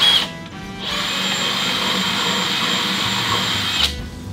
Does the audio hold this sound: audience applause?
no